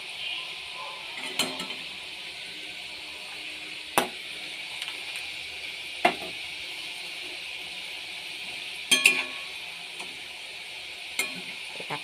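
Potatoes fry in a pan and are stirred gently, a constant soft sizzle broken by occasional scraping clicks and knocks of a spoon against the pan.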